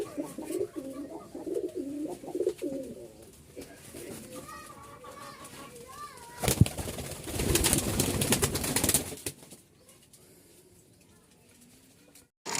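A pair of Tamla pigeons with feathered feet coo softly in repeated low, throbbing calls, with people talking nearby and a louder burst of rustling noise midway.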